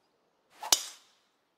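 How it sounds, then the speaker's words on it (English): A single crisp golf club strike on a tee shot at a bayou course in Louisiana, one sharp close crack in a quiet setting. "Tee shot's looking nice here."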